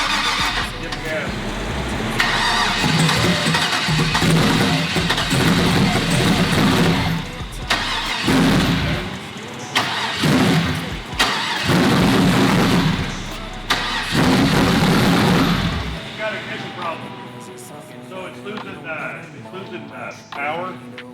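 A truck engine cranks and catches in repeated bursts, the starter and sputtering engine surging and dropping several times before fading, loud and close, with people talking over it.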